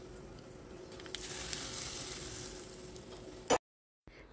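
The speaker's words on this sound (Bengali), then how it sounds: "একটা তড়কা প্যানে কিছুটা তেল গরম করে 1 চামচ জিরে, হাফ চামচ সর্ষে ভালো করে ফুটিয়ে নিয়ে এই পেঁয়াজের মধ্যে দিয়ে দেব" Hot oil tempered with cumin and mustard seeds hisses as it is poured over raw onions, a steady close sizzle for about three seconds ending in a sharp clatter, then a brief silence and a faint knock.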